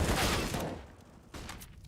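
Gunfire in a Counter-Strike match: a loud rapid burst of shots that fades, then a second short burst near the end.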